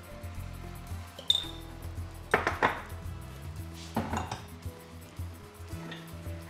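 A spoon stirs salted chopped tomatoes with onion in a pot, giving a few close scraping bursts and metallic clinks against the pot's sides between quieter pauses.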